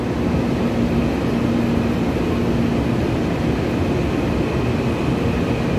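Taiwan Railway trains pass close by: an EMU506+EMU509 local electric multiple unit and a TEMU2019+TEMU2020 Puyuma tilting express. They make a loud, steady rumbling roar that holds without a break, and no voices are heard.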